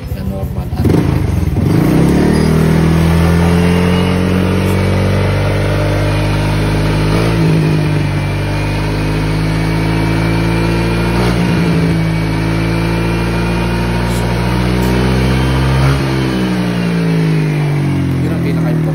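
A Honda Click 160 scooter runs on a remapped engine, idling with a steady low hum and occasional rev swells, close up, while someone talks over it.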